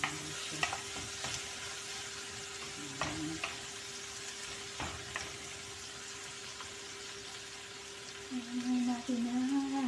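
Tomatoes frying in a pan in a home kitchen, a steady close sizzle and crackle with occasional stirring scrapes, a voice talking faintly near the end.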